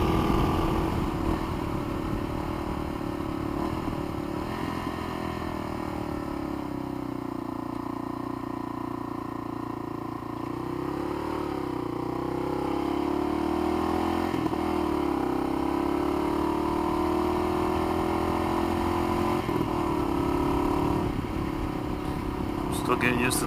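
Kawasaki KLR motorcycle cruising around 65 on a country road, a steady droning engine note with wind rush, wavering slightly in pitch through corners, continuous and close.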